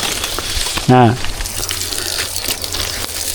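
Irrigation water gushing steadily across a dwarf coconut farm in hot weather, a continuous broad rush heard throughout, with a brief voiced exclamation near the start.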